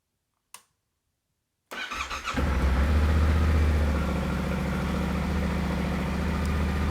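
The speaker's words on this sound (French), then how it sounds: "quand on démarre la moto" A motorcycle engine starts up with a brief cranking burst, then settles into a steady, loud, close idle that runs unbroken to the end, with no talk over it.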